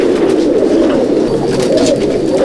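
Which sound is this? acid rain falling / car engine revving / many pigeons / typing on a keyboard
many pigeons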